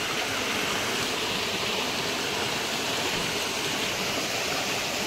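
Flowing stream water rushes in a steady, dense broadband wash, close and continuous throughout, with no voices.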